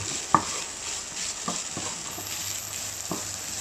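Cooked white beans and chickpeas being mixed in a bowl, a few soft separate knocks and scrapes of a utensil over a steady background hiss, close and quiet.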